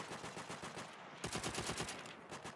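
Automatic gunfire from a BAR in Call of Duty: World at War multiplayer, a dense rapid burst of shots followed by a louder, sharper volley, loud and continuous with no talk.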